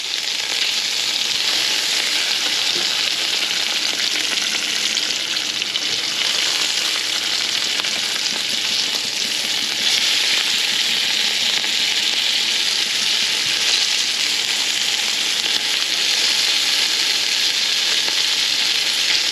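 Halibut fries in a pan, giving a loud, dense, unbroken sizzle that holds evenly for the whole stretch with no voices.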